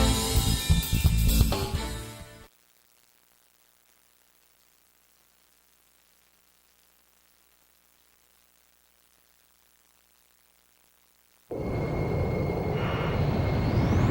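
A fighter jet launches in the Ace Combat 5 video game, a loud engine roar that cuts out into near silence for several seconds before a steady jet roar returns.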